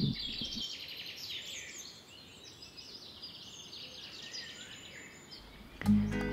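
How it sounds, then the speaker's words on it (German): Spring birdsong in a warm, windy forest around a toy-making village: many small birds twitter and trill continuously at moderate distance over steady wind noise, with a brief thump near the end. "und der Vogelgesang im Wald ist einfach unbeschreiblich"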